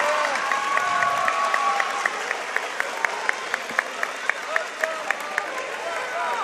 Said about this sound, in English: Both sides are cheering for her.